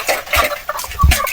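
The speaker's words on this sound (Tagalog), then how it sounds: "mga native na manok." Native heritage chickens on a Philippine farm give a few short, close clucks and murmurs among scattered clinks and rustles.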